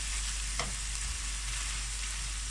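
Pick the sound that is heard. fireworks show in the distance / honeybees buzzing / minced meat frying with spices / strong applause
minced meat frying with spices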